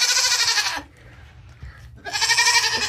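A pregnant goat on a farm, close to kidding, gives two loud, harsh bleats separated by a short quieter gap with low background noise.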